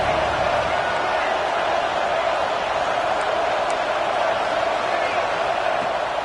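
A dense, steady roar from a large college football stadium crowd on third down fills the whole stretch, loud and unbroken, with no clear breaks or individual voices.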